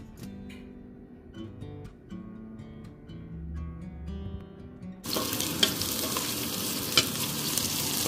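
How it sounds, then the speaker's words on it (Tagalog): Onion, garlic and ginger sautéing in oil: a quiet stretch with soft tonal sounds, then from about five seconds a loud, steady close-up sizzle with a few sharp stirring clicks. "Nagisa ko na po yung sibuyas, bawang, tsaka yung ating luya."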